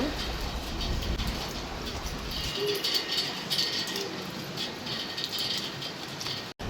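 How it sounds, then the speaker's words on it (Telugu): Heavy rain falls in a steady, dense hiss with faint rattling patter on surfaces, continuing evenly before cutting off abruptly. "వర్షం అయితే ఫుల్ వర్షం పడుతుంది చూడండి ఎంత వర్షం"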